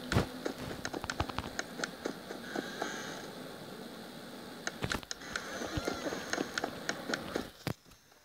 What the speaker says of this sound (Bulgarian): Аз постоянно чувам някакви стъпки.